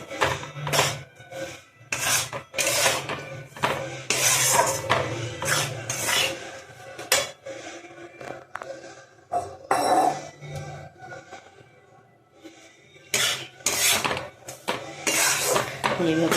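A spoon stirring in a pot while sugar syrup is prepared, with repeated rasping scrapes in uneven bursts and short pauses, someone talking over parts of it.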